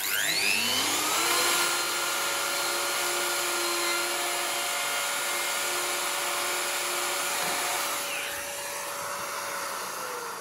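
A Festool DF 700 Domino joiner cuts into a workpiece, a steady loud high-pitched motor whine with tonal harmonics that spools up at the start and runs continuously, easing down near the end.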